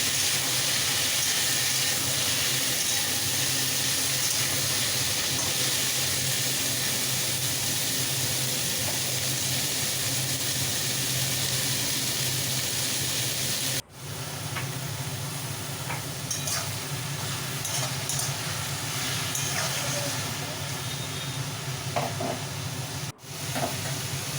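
Cauliflower florets, washed and seasoned with salt and turmeric, frying in hot oil in a pan, giving a steady broadband sizzle with occasional stirring scrapes and two brief cut-outs, close and loud with no talking.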